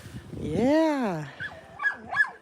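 A happy puppy gives a drawn-out whining yelp followed by a few short, high yips and whimpers, close and fairly loud, with a person's voice faintly in the background.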